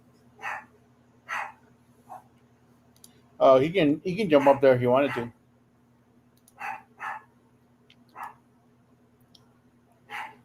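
Dogs barking indoors in a home with the hallway door open, a burst of several overlapping barks amid a steady fan hum, with a person talking before and after.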